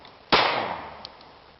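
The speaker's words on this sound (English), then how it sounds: "just fire a couple of rounds here at close range into the dirt and see what it looks like up close." A single sharp gunshot is fired at close range into soft dirt. The loud crack decays into a short ringing tail, and a faint tick follows it.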